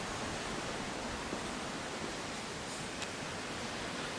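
Steady broadband rush of the Ayung River flowing past a resort in Bali, Indonesia, a continuous even wash of water with no pauses, no voices and only faint tiny clicks.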